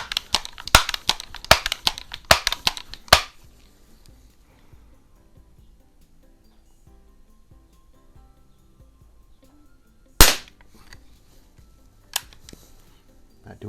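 An early Crosman 760 .177 pellet rifle used for outdoor plinking: a quick run of sharp, close snaps and clicks, then after a long quiet gap a single loud crack followed by a smaller snap.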